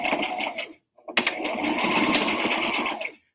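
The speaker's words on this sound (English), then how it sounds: "So this sewing machine that I have is called a Brother" A Brother sewing machine stitching in two bursts, a quick rapid whir, a brief pause, then a longer steady mechanical run close by that stops abruptly.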